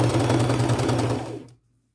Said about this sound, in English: Now I'm just going to go sew it.